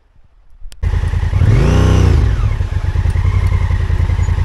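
Trail motorcycle churning through deep muddy ruts on a Trans Euro Trail route in Andalusia, Spain, the engine bursting in loud and close after a quiet start, revving up then holding a rough, throbbing drone.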